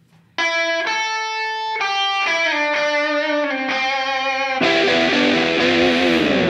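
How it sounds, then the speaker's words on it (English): A Stratocaster electric guitar with light distortion plays ringing sustained notes and chord changes, up close and alone, then swells into a fuller, denser strummed passage near the end. "The bulk of the verse was just done with a strat and like a little bit of distortion."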